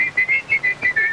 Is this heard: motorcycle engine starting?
no